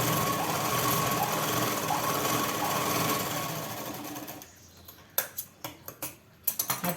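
A sewing machine runs a continuous stitch along blouse fabric, a close, steady mechanical whir for about four seconds, then stops, followed by several sharp clicks and taps as the fabric is handled.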